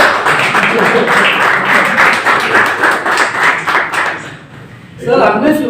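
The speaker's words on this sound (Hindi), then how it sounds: "मैं चाहूंगा सर के लिए जोरदार तालियां बजाएं" An audience at a JCI training meeting claps together for the speaker in loud, dense applause. It fades briefly near the end and then swells again.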